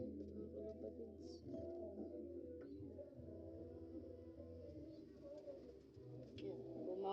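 A pair of pigeons with their squab coo in a loft, a soft, low, rolling cooing that runs steadily throughout, fairly quiet with faint background murmur.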